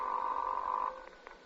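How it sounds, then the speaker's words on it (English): An old telephone rings in a vintage radio drama from the Suspense series, one sustained electric buzz-like tone lasting under a second before fading into quiet room noise. "That's the phone."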